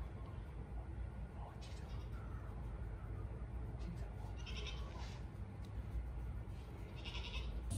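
Goats, including young kids, bleat in short calls on a farm where t-post fencing is being put up, heard faint and somewhat distant over a steady outdoor background.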